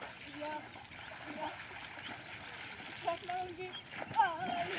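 Fishermen plunging and splashing through water as they drag a net to catch fish, with light splashes and trickling throughout and a sharper splash near the end, under talk.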